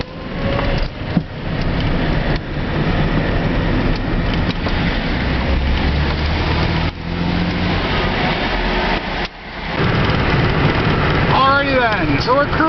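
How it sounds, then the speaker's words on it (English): Daytona EV electric vehicle cruising on the highway at about 82 mph, with a steady, continuous roar of road and wind noise and no engine note. "So we're cruising along on the highway here."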